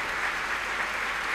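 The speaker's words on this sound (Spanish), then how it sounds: "Ahí tienen a los invitados puestos en pie, aplaudiendo." Guests at the 1994 Princess of Asturias Awards ceremony stand and applaud, a continuous, even roar of many hands clapping in a large hall, heard alone without talk.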